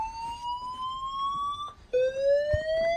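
A building fire alarm system tested on zone 8 sounds its evacuation alarm: a loud, steady rising sweep tone that repeats, restarting after a brief break. No one speaks over it.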